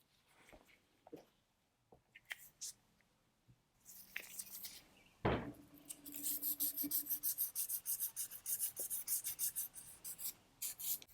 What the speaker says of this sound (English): So we're going to sand that out with 1000 grit sandpaper.